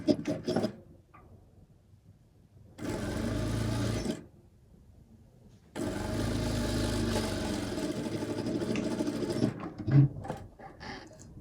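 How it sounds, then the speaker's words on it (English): Sewing machine stitching down cargo shorts fabric, running in two sustained bursts of steady mechanical whirring with quiet pauses between, close and fairly loud. "I'm going to sew it down."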